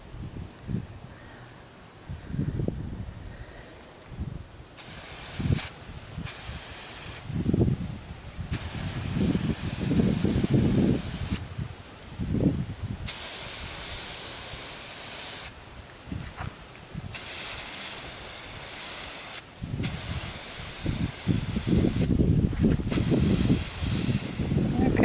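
Aerosol spray paint hisses in repeated bursts of several seconds each as golf-ball allium flower heads standing in sand outdoors are coated dark purple, with pauses and faint background noise between sprays.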